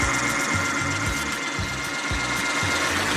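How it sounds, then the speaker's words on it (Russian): A power drill bores a pilot hole in wood for homemade wooden stilts, its motor whirring steadily and close by, with a rhythmic pulsing as the bit works into the wood. "Одну контролечку мне сверли"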